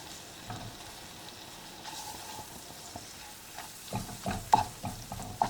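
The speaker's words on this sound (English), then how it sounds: "the butter is warmed up, and I'm gonna add my flour" Flour being stirred into warmed butter in a saucepan over medium-low heat for a potato soup roux, with a soft continuous sizzle and scraping spoon strokes growing louder toward the end, no voices.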